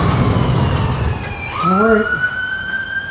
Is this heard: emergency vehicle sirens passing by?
yes